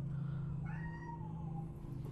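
A cat meows in a long, drawn-out rising and falling call over a steady low hum, heard close and alone.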